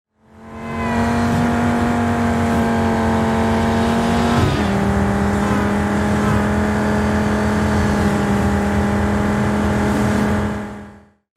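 A car in the Just Cause 4 video game drives past with a loud, steady engine tone that drops sharply in pitch midway as it passes, then continues a sustained hum before fading out.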